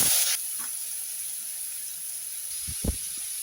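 Salted radish goes into hot oil with black mustard seeds, giving a loud hissing sizzle at the start that settles into a steady soft hiss, with a couple of brief pops and clinks near the end.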